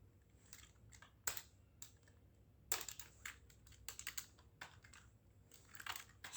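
A vendor name is typed on a computer keyboard in a quiet office setting, producing scattered light, close key clicks in short irregular bursts with pauses between them.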